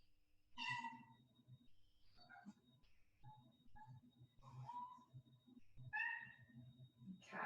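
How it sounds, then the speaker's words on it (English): A cat meows several times in a quiet room during a restorative yoga session, the calls rising clearly over a low steady hum; the meows come in separate bursts spread through the clip. "Cat is waking up and meowing."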